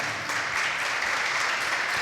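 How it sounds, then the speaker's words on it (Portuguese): An audience applauds guests at a school music-band cultural event in Santarém, a steady wash of clapping filling the short moment at moderate volume with no one speaking over it. "uma salva de palmas aqui para os nossos convidados"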